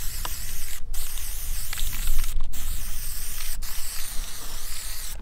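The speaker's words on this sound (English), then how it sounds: "And then just spray paint it." Aerosol spray paint can hissing onto a steel shooting target in loud, close bursts with a few brief pauses between them, no talking.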